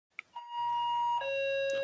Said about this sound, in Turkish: o kapı zili